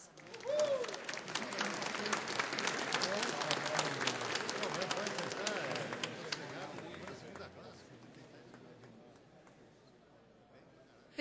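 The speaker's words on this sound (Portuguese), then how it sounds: "Uma salva de palmas a todos os homenageados." An audience at a formal session marking Workers' Day applauds honorees at a ceremony, a dense burst of clapping that swells quickly, holds for several seconds, then thins and fades away.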